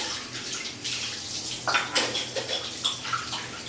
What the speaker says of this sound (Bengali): বাকিগুলো থালাগুলো আমার হয়েছিল সেগুলো আমি এখন ধুয়ে নেবো